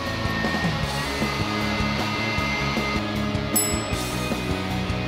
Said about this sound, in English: We are ready to start grinding our meat.